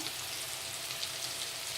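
Fish deep-frying in hot oil makes a soft, even crackling hiss, fairly quiet and constant throughout, with no voices over it.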